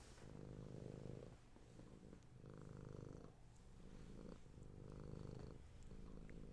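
A cat purrs steadily up close in a quiet setting, a low rumbling drone swelling and fading in regular breath cycles, with no talk over it.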